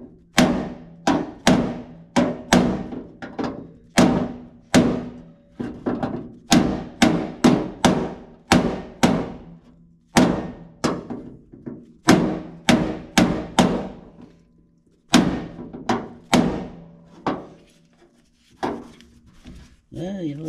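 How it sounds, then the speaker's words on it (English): Repeated metallic hammer blows on a 1964 Impala fender's sheet metal backed by a heel dolly, sharp and close, in irregular bursts of quick strikes with short pauses between. "I'm going to use the heel dolly"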